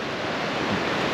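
River water flowing steadily in a trout stream, a continuous broadband rush with no pauses, fairly close and alone.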